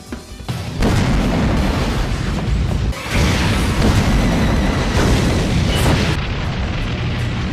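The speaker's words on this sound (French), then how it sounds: "Dans l'épisode 172 de Yu-Gi-Oh! GX, c'est Sartorius qui fait exploser la tour." The Kaiba Corp tower explodes in the Yu-Gi-Oh! GX anime. A loud, sustained blast roars and rumbles for several seconds, with a heavy low boom and crackling debris layered throughout.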